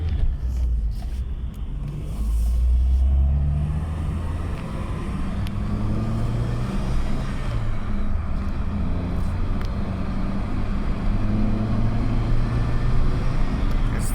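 A Vauxhall Corsa engine pulls steadily in third gear, a loud, continuous low drone with a brief swell early on, heard from inside the car with no talk.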